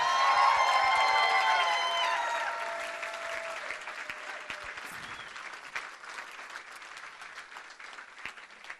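A big crowd at an NDP leadership victory event claps and cheers, loud dense applause with whoops and shouts early on, tapering to thinner sustained clapping.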